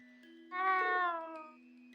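A single drawn-out cat meow voice line from the video game Trails of Cold Steel, clear and close, with a steady electronic hum running beneath it.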